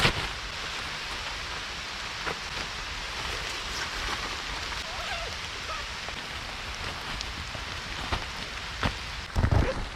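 Heavy rain from Storm Ciarán pours down steadily on a camp under a poncho shelter, a dense unbroken roar of drops with occasional louder pattering thumps near the end.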